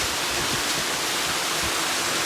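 Waterfall water rushes just below the listener at Bheemuni Paadam, a dense, continuous roar of broadband hiss with no pauses and no voices.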